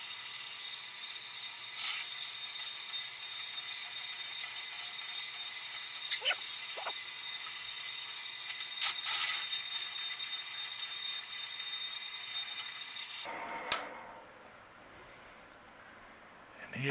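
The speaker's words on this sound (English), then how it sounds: "First drilling job with my new modification of the drill press" A modified drill press runs with a steady high whir and clicking mechanical texture, a few knocks along the way, before the tone drops and winds down near the end.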